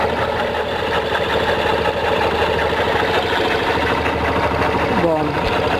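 A Yamaha Factor ED motorcycle idles with a strange engine noise, a steady close mid-frequency chugging and rattling that runs throughout, loud and continuous.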